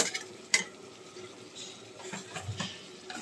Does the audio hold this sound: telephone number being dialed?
no